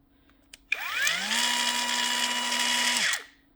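A Kuang Tian 16.8V brushless cordless 76mm mini angle grinder whirs up to speed, holds a steady high-pitched whine for a couple of seconds, then winds down, alone and close.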